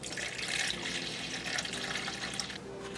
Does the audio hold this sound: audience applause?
no